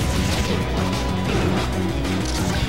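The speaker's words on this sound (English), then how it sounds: "Going for down smashes again" Mario's down smash attacks in a Super Smash Bros match against Falco produce dense, loud game hits and crashes layered over continuous music and sound effects.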